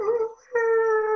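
A person imitates a wolf howling with two sustained, wavering vocal tones separated by a short pause, close and clear against near silence.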